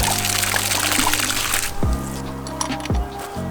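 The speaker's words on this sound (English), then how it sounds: "Water flows." Water pours and gushes steadily from a Generac CW10k pump on first start, loud and close, then drops to a softer flow with a few thumps and sloshing bursts over a low mechanical hum.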